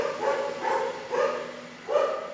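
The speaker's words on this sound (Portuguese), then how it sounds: "Desculpa o cachorro aí" A dog barks four times in a steady, evenly spaced rhythm, moderately loud and somewhat distant, with no talking over it.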